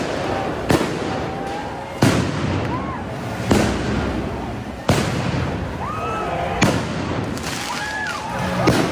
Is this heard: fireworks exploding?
yes